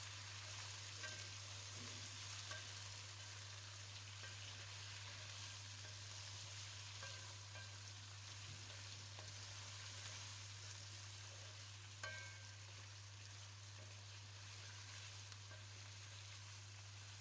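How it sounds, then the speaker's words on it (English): Potatoes sizzle steadily in hot oil for an egg curry, a continuous close frying hiss with faint stirring scrapes and a steady low hum underneath, no voices. "you can add in the potatoes and give it a quick mix"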